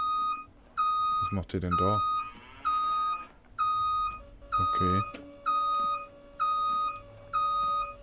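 A door in a Landwirtschafts-Simulator 19 farm scene beeps in a steady repeating pattern of short electronic tones, while someone talks briefly over it.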